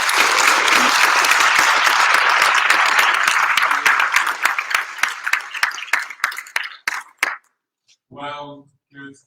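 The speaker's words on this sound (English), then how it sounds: "if we can all give Paul and the rest of the panelists a round of applause" An audience at an evening panel event on climate change gives the panelists a loud, sustained round of applause that thins into scattered claps before a voice begins.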